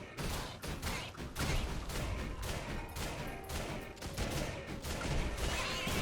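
Mortar fire in the video game Risk of Rain Returns, a dense, continuous barrage of booming blasts and crashing impacts layered over game sounds for several seconds, with no talking.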